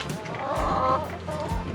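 Chickens cluck close by in a short run of soft, throaty clucks with one fuller call in the middle, and no talking.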